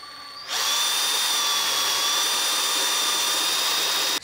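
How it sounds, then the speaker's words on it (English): A power drill bores an M8 hole during a horsebox conversion, starting after a brief quiet moment and then whining at a steady high pitch, close and loud, until it stops abruptly at the end. "So I've just drilled an M8 hole in here, and I'm gonna do the same here."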